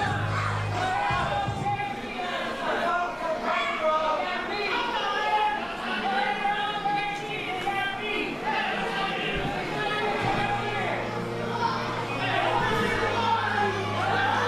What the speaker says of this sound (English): Crowd talking to him.